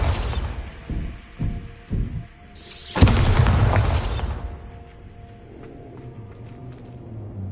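A Bombarda spell blast in Hogwarts Legacy: a few short clanking knocks lead into one loud, close booming explosion midway, which trails off into a fading low rumble.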